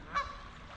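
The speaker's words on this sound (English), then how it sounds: "I'm afraid we disturbed some geese here." A single goose gives a short, faint honk near a creek, brief and alone against quiet background.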